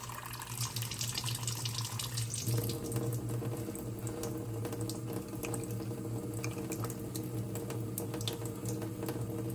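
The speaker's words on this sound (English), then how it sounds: "fill it full of water" Steady running water pours into the water tank of a Sunbeam Valet steamer, a continuous close hiss with a low resonant tone that deepens as it fills.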